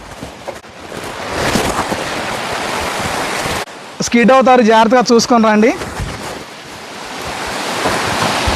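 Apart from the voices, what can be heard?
Donabanda waterfall, water flowing down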